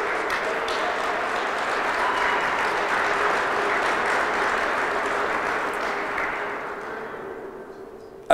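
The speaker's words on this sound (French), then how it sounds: "j'aimerais vous inviter à vous donner un grand applaudissement pour être là aujourd'hui" A large crowd applauds steadily, a dense wash of clapping that holds for several seconds and then thins toward the end.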